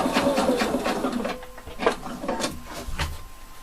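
A sewing machine top stitching a bellow pocket runs close and steadily with a rapid mechanical chatter that slows slightly midway, punctuated by light knocks of the fabric being handled.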